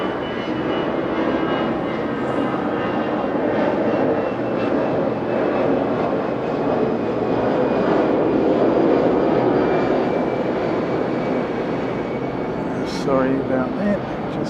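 An Aero K airliner passes at Okinawa airport with a loud, sustained engine roar that stays steady and close throughout, with a brief higher whine near the end.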